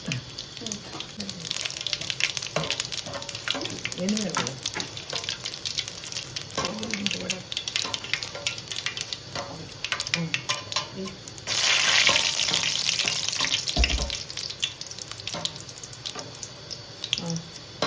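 Urad dal and mustard seeds frying in hot oil for a brinjal dish, giving a steady sizzle with scattered pops and crackles, joined by a brief louder hiss near the middle and some kitchen clatter.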